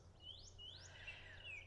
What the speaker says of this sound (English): I sure hope you can hear all of the birds out this morning.